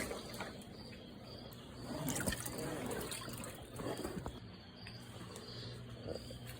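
Water drains steadily out of a folded kids' pool set on an angle, a soft continuous trickle and dribble with faint outdoor insect chirping in the background, low and unbroken.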